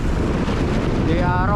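Strong wind out on the water during a fishing trip buffets the microphone in a loud, steady rumble, with someone speaking under it near the end.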